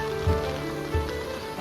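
Steady rain pours down outdoors in a village downpour, soaking a pair of bullocks, a continuous close wash of patter with a few low thumps.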